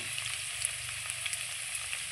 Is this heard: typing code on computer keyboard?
no